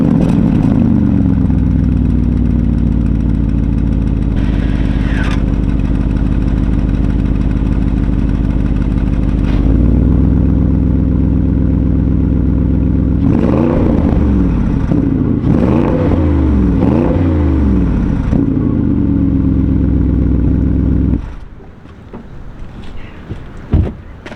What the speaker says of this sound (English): I'm gonna go ahead and get you guys a quick bit of a cold start here